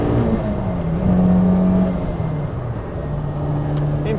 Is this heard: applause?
no